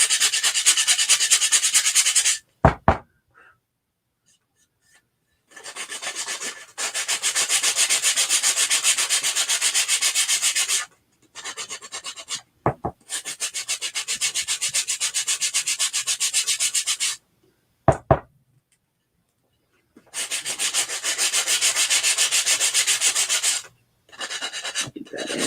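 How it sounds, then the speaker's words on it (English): Hand sanding the corners and edges of a wooden block: long stretches of steady, close, loud abrasive rubbing, broken by short pauses and a few sharp knocks. "Try to get those corners good and sanded down."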